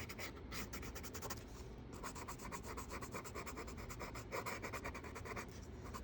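Colored pencil rubbing steadily across sanded paper while highlights are filled in, a continuous close gritty scratching with quick repeated strokes and no talk.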